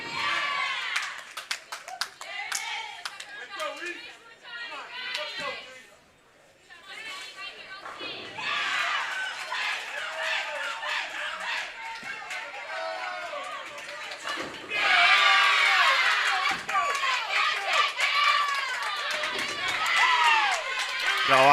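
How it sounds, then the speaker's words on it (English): Parents crowd a bowling championship venue, clapping and cheering in bursts amid steady chatter, with a louder surge of applause and shouts in the latter part. "Got a great crowd cheering on"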